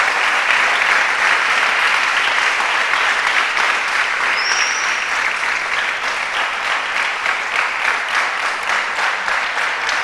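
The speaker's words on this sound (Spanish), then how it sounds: "Le da un aplauso al Señor, hermano" Loud, sustained applause from a church congregation praising God during a Spanish-language evening service, dense and continuous throughout with no voices over it.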